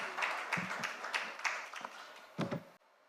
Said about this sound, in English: Let's welcome him onto the dais with a round of applause.